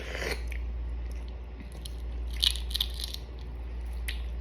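Close-up biting and chewing of balut, a fertilized duck egg, with a few soft crunchy bites and wet mouth sounds over a steady low electrical hum, no talking.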